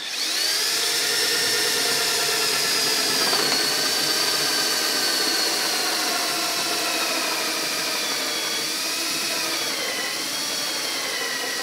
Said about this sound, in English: we'll go ahead and drill one hole for the power feed